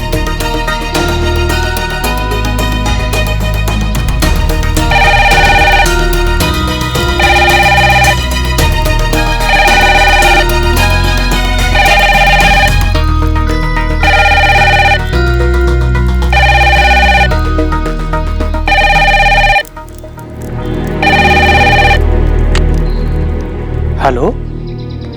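Regular bursts of a phone's ringing tone repeat many times over background music and a speaking voice, loud and steady, before cutting off near the end.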